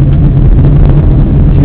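A manual car engine pulls hard in second gear, a loud, close, steady droning roar inside the cabin that holds its pitch for the brief moment, with no talk over it.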